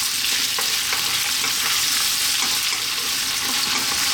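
Hard vegetables for a vegetable curry frying in a pan over above-medium heat, a loud, continuous sizzle with faint stirring clicks and no talking.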